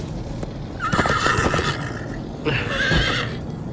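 Two loud whinnies from a Minecraft Story Mode horse break out over a continuous rumble of galloping hooves, close and prominent.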